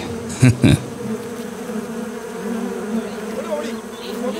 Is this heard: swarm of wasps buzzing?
yes